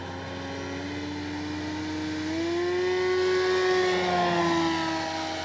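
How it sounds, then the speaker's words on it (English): A Great Planes Ryan STA model airplane makes a full-speed pass down the runway, its steady engine drone rising in pitch and loudness as it approaches, then easing slightly as it passes. "We're going to bring her by full speed down the runway this time."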